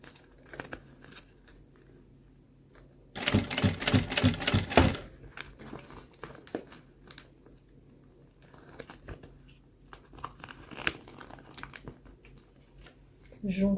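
Sewing machine stitching a seam close to the rounded piping on a small zippered thread pouch: a loud, rapid mechanical burst of about two seconds, with quieter handling noises and rustling before and after.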